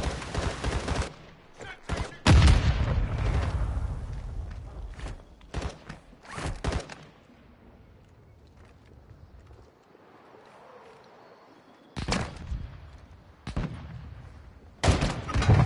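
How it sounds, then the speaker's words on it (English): Sharp gunfire in a PS4 online shooter game, several bursts of loud cracks with broadband bangs clustered early and a few more near the end, separated by quieter ambient stretches. "I'm getting sniped from behind."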